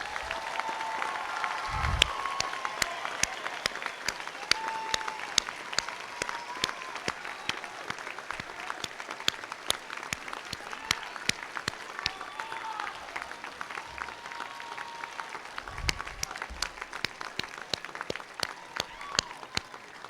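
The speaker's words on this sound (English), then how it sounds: "Would the class of 2017 stand and turn and face guests for one last round of applause" A large audience at a college commencement ceremony applauds steadily for about twenty seconds, a dense, continuous wash of clapping in a big hall with a few faint voices underneath.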